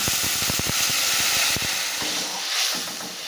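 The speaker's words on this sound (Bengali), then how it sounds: "এবার পরিমাণ মতন জল আমি ঢেলে দিচ্ছি।" Water poured into a frying spice paste for an aloo-bhindi curry gives a loud, steady steam hiss and sizzle with scattered pops and crackles throughout, no voices.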